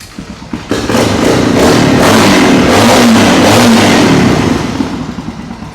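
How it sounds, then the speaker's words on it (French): An air-cooled motorcycle engine starts with a few thumps, then settles into a loud, close, steady rumble that swells and holds for several seconds. "il faut démarrer ta bécane et la laisser chauffer au moins 5 minutes"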